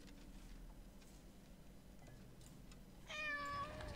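A cat meows in the horror video game Layers of Fear, a short harmonic cry rising late over a steady low droning ambience with faint ticking.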